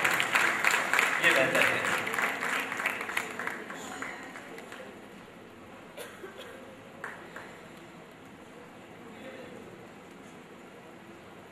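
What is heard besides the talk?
audience applause at a temple festival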